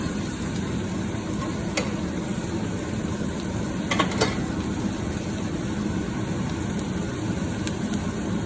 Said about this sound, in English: So just sweat those onions off a bit till they're